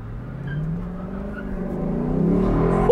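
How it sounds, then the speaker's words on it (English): A 2022 Lexus LC 500 Convertible engine revs steadily upward, its growling pitch climbing and getting louder over a few seconds, with a faint tire squeal. "I've missed the sound of this engine"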